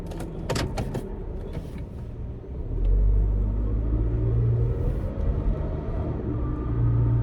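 Car making a strange noise: a low rumbling drone that swells and persists, with a few faint clicks early on, heard up close without talk.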